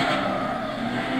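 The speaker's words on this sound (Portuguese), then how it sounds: "Característica dos Mazda é isso, motor Wankel." Mazda RX-8 Type S with its Wankel rotary Renesis engine in Gran Turismo 6, a brief, steady, loud buzzing engine note held at high revs with no talk over it.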